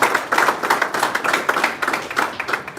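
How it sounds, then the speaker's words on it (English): Head teachers and other participants applaud at an examinations board dissemination workshop hosted by a secondary school in Katwe, Uganda: a brisk run of close hand claps with uneven rhythm that carries steadily for about three seconds. "I know head teachers are not used to clapping hands"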